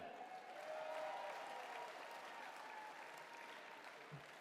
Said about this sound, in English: How about a round of applause for our chairman?